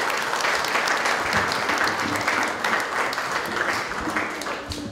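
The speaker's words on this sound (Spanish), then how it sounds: "Un aplauso para ellos." Audience applause at a community event honouring former braceros, a full, dense round of clapping from a sizeable crowd, steady and fairly loud for five seconds.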